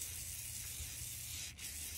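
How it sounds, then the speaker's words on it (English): A steady, close WD-40 aerosol spray hisses continuously for about two seconds onto stuck load binders, with a brief break near the end before it resumes. "get your favorite lubricant, I'm a WD-40 guy, and spray these liberally"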